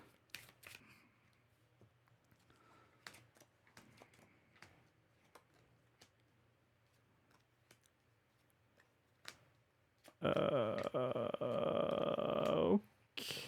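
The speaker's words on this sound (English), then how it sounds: "Let me shuffle these up good since we had like 4 aces in a row for some reason." A deck of playing cards is shuffled in a solo card game of Lobo: a dense, loud riffling burst of about two seconds after quiet table taps and small handling clicks.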